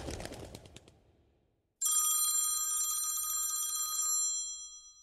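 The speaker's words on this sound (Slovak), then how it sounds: "zdvihni si ten telefón. Čo nepočuješ, že vyzváňa?" An old-style telephone bell rings in a loud, continuous metallic jangle lasting a couple of seconds, coming in suddenly after a brief hush that follows some softer clattering.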